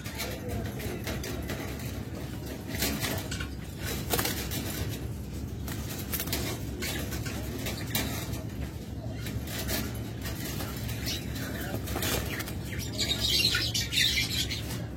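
Lovebirds in a crowded bird shop holding hundreds of pairs, a dense continuous mass of chirps and squawks filling the space, with a voice talking faintly underneath.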